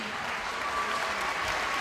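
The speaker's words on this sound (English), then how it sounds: "Let's give a round of applause to our final category of the night" Brief, steady applause fills a hall at a Strut For The Cure fashion event for the final category of outfits, a dense even patter with nothing else standing out.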